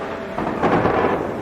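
Thunderstorm at sea in a ghost story: a loud, broad rumbling roll of thunder that swells and lingers over steady storm noise, heard alone without speech.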